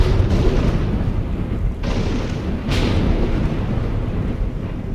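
Deep rolling thunder as a sound effect in a narrated historical story, a loud continuous rumble with a few sharper cracks, filling the whole stretch without talk.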